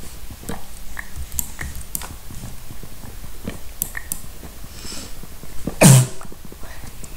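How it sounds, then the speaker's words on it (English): A single sharp, loud sneeze bursts out near the end, after a stretch of quiet clicks and faint chewing-like noises from a person playing Minecraft. "Just me sneezing."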